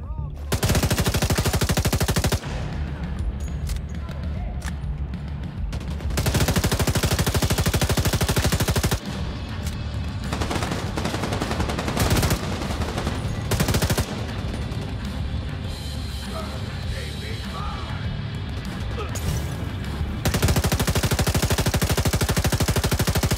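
Sustained automatic gunfire from The Division 2 fights an enemy at Roosevelt Island Stronghold, loud bursts filling the scene with brief pauses between volleys, and co-op players chatting faintly underneath.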